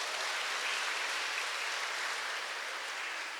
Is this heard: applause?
yes